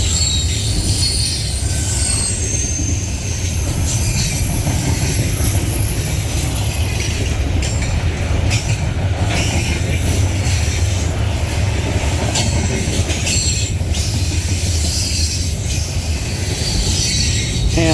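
A long Norfolk Southern freight train with auto racks rumbles past close by on the D&H line, wheels grinding and squealing continuously over a heavy low roar, steady and loud throughout.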